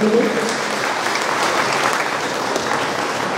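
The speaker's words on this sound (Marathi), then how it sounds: "सुरुवातीला तुमच्या सगळ्यांचं जोरदार टाळ्या वाजवून अभिनंदन करतो" Audience applause at a 50th and 25th wedding anniversary celebration at St. Thomas Church in Sandor, Vasai: dense, steady clapping from a crowd that fills the room, loud and continuous, with faint voices mixed in.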